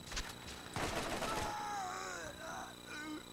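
In the video game Borderlands, a scoped gun fires a rapid, loud burst of shots close by, followed by a stretch of whistling, chirping game effects.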